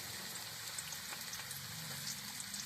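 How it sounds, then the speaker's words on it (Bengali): Carrots go into hot oil for mixed fried rice, giving a faint, steady frying sizzle with a soft hiss throughout and no voices. "তো বন্ধুরা তেলটা গরম হয়ে গেছে, তো আমি এক এক করে সবজিগুলো দিয়ে নিই। প্রথমে দিচ্ছি গাজর"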